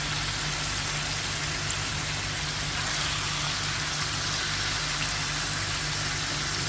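Chicken pieces for chicken chaap fry in a pan, a soft, continuous rain-like sizzle with a low background hum, steady throughout and heard alone.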